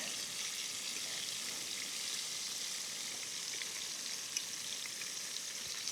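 Fish sizzles steadily in a hot frying pan outdoors, a constant crackling hiss with occasional small pops, fairly quiet and close, with no talking.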